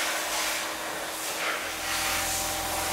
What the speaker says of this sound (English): at the moment is welding without any filler wire